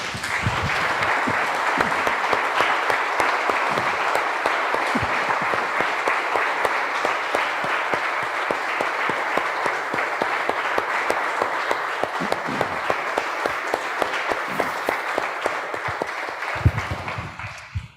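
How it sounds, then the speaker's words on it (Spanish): A congregation at a church service applauds steadily and loudly for a long stretch, the clapping dense and sustained before tapering off at the end. "Damos un aplauso, hermanos, al Señor."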